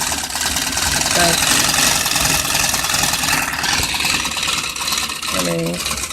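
An antique sewing machine, just freed after being seized, runs steadily with a continuous, fairly loud mechanical whir and rattle that carries through the whole stretch, with a couple of brief higher squeaks or tones near the start and end.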